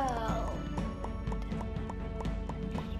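Horses walk around in Minecraft at midnight, giving a steady run of clip-clop hoof taps under background game music.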